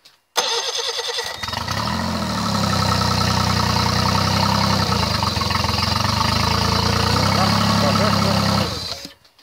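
A small Tohatsu/Mercury 25-30 outboard motor starts abruptly and runs loudly at a steady pace for several seconds without water, close by, then cuts off.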